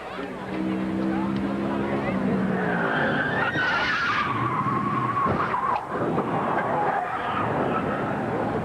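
A 2002 NASCAR Winston Cup race car skids through a crash coming off turn 3 onto the long front stretch, a loud sustained tire squeal and scrape over steady crowd and engine roar for several seconds.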